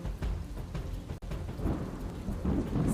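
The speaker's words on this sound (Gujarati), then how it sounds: "ભાસ્કર, ઉપરવાસમાં ભારે વરસાદ અને જે પ્રકારે પાણીની આવક થઈ છે, ડેમના દરવાજા પણ ખોલવામાં આવ્યા." Heavy rain pours steadily with deep rolling thunder rumbling through it, loud and close, with no voices present.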